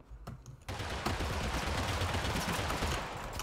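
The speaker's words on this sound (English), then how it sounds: "Lee, get ready to shoot him" Gunfire in the shooter game Totally Accurate Battlegrounds: a few sharp shots, then a dense, loud continuous burst of rapid fire lasting several seconds, with no talking.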